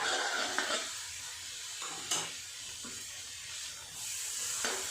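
Cumin sizzles in hot oil in a pan while besan tikki is being cooked, giving a continuous frying hiss with a few sharp spatula scrapes and clinks, up close and with no talk.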